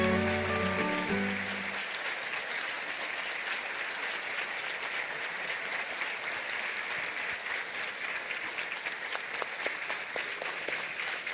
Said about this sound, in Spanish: Merecido ese aplauso